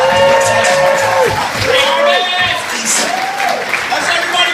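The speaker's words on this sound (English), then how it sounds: "Put your hand together, Mr. Riney." A comedy club audience greets the host with loud, close applause, whoops and cheering, a steady dense roar through the whole stretch, with a shouting voice over it.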